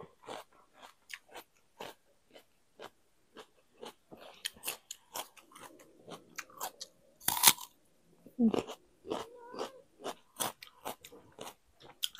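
Crunchy, spicy glass noodle squid salad being eaten up close, a steady run of sharp crisp bites and chewing crunches spaced at irregular short intervals, with a few louder crackles and no talking.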